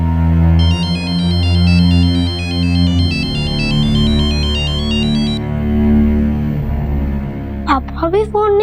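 A phone ringtone repeats several times over a dramatic music bed and goes unanswered. The ring is clear and fairly prominent, and the tone drops away before a short burst of other sound at the end.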